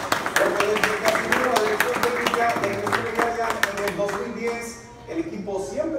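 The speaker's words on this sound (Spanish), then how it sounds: "Fuerte el aplauso" An audience at a cycling team presentation claps for a rider in a crisp, rapid patter over an announcer's amplified voice and background music, fading near the end.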